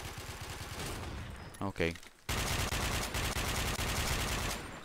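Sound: sniper rifle gunfire in a video game

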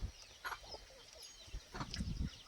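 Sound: free-range village hens clucking

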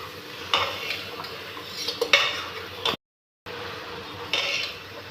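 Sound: stirring baingan bharta (eggplant, tomatoes) in a pan

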